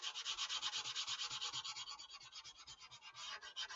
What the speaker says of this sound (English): Now I'm working on the same 220 sandpaper for now.